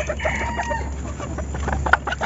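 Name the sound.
labuyo jungle fowl clucking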